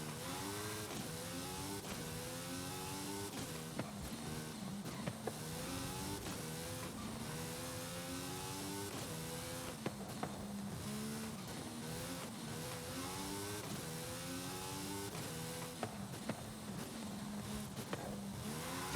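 A Mercedes-AMG One race car in Forza Horizon 5 runs hard around Eagle Forest Raceway, its engine holding a steady, loud whine with rising and falling pitch sweeps as it shifts through gears, continuous for the whole stretch without talk.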